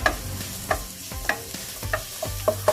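Sliced onions sautéing in a pan for Ilocano igado, stirred with repeated scrapes and taps roughly every half second over a low sizzle, close and clear with no talking.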